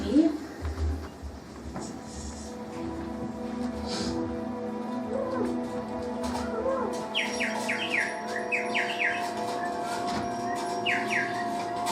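Small birds chirping in a bird shop in a 1930s Hitchcock film, bright rapid tweets starting partway through over a constant hum, with voices speaking earlier in the scene.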